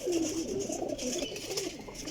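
Flying pigeons of an old breed coo in low, rolling calls, close and fairly loud, repeating steadily through the moment.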